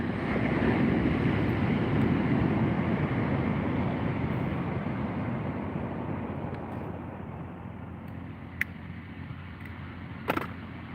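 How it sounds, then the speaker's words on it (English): Wind blowing steadily at sea around a fishing kayak, a broad roaring rush with water wash that slowly eases, and a couple of faint clicks near the end. "Got the wind coming in again"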